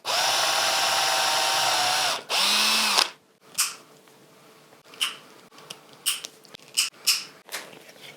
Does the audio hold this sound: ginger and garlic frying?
no